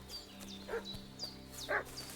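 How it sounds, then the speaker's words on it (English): Dog barking in the medieval open-world game Kingdom Come Deliverance 2, two short bursts of barks at moderate distance over a steady background music hum. "That doggo's barking and the music's changed."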